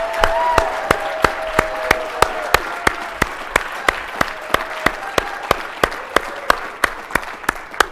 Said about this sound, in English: So let's give her a really good round of applause.